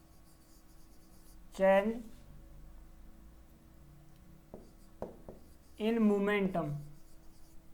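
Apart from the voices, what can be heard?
writing on a board during a lecture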